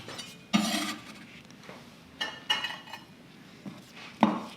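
A knife chopping baby leek into bite-sized chunks on a board, several crisp, separate cuts spaced irregularly, close and moderately loud with quiet pauses between.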